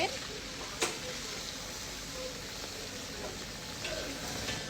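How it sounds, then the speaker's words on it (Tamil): Oil with turmeric sizzles and crackles steadily in a pan, with a few soft scraping stirs, fairly quiet and continuous. "எண்ணெய் நல்லா வதக்கிக்குங்க."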